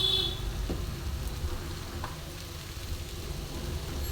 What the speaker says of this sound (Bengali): বন্ধুরা এবার আমি ঢাকাটা খুলে ভাজা বেগুনটা দিয়ে দেবো।